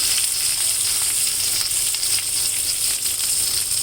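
Cumin, mustard seeds, green chillies and spring onions fry in a hot pan, a loud continuous sizzle with bright crackling pops from close by, and no one speaking.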